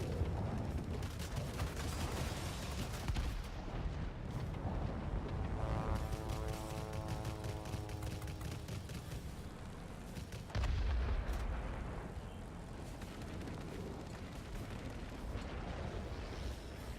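Cannons on a Lavochkin La-160 jet fighter in World of Warplanes fire in a dense, continuous roar of rapid shots over loud engine noise, with a heavy thump partway through.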